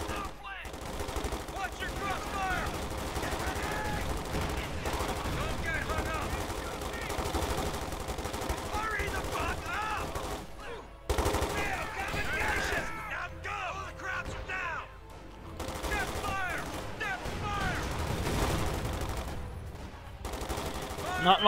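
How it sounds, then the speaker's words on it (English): A rocket barrage in Company of Heroes 2 Ardennes Assault, a World War II strategy game: a dense, continuous roar of launches and blasts keeps going for about twenty seconds, with brief lulls and faint voices underneath. "Just a deluge of rockets going their way."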